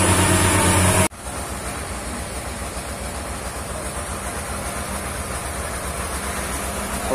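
Engine of a well-drilling rig lowering its line into the borehole runs as a steady, loud, rumbling drone, following a brief louder burst of sound at the very start.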